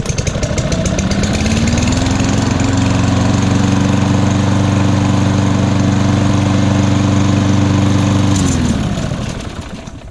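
A gasoline lawn mower engine fires up and settles into a loud, steady run close by, its droning hum holding for several seconds before winding down near the end, with no talk.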